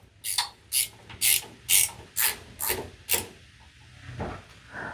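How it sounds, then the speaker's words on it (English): Ratchet wrench breaking loose self-threading tap-tight bolts on a slide motor, seven crisp clicking bursts in a steady rhythm, close and fairly quiet, with a softer mechanical rattle at the end. "And we're going to break these nuts loose, these bolts loose."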